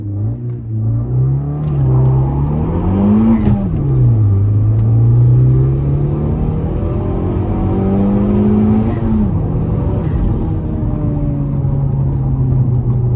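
A turbocharged Suzuki Swift Sport launching and accelerating: loud, close engine rumble that rises in pitch through the gears with brief drops at shifts, continuous and dominant throughout.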